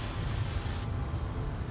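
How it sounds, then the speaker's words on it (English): An aerosol spray can hisses onto a CD in a lab setting, giving one loud, close, continuous burst of spray whose bright edge cuts off partway through while a softer hiss lingers. "I have a spray here."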